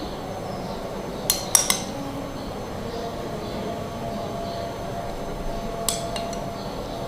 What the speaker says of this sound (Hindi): अब हम ऊपर कॉकटेल डालेंगे दोबारा से।